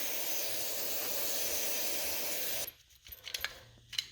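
Cleaner sprayed onto the outside of an Edelbrock carburetor from an '83 Regal, outdoors: a steady, loud continuous hiss for over two seconds, then cutting off into short bursts and faint handling clatter.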